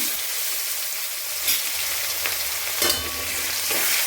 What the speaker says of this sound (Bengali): একটু লালচে লালচে করে ভাজবো পেঁয়াজ